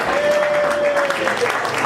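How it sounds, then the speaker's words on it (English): Audience applause at a pre-Grammy reggae party, a broad wash of clapping with a sustained tone running under it and some voices mixed in, steady and fairly loud. "give them a big round of applause"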